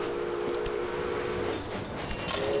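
Trains running on a railway in the Railway Empire game, a continuous rolling rumble with a sustained whistle tone that fades and returns near the end, steady and fairly loud with no speech.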